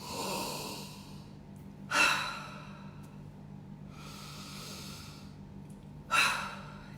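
Two slow, deliberate breaths, each a soft broadband rush of air, fall about four seconds apart over a quiet low hum, with no talking.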